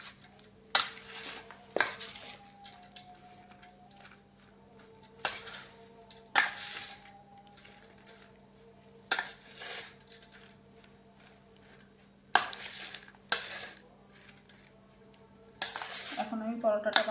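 Cauliflower paratha filling being mixed with chopped green chili in a bowl, sharp intermittent clinks and knocks of a utensil against metal at irregular intervals, close, with quieter rustling between.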